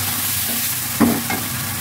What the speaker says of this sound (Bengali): কষানোর জন্য একটু পানি দিয়ে দিলাম মাছগুলো,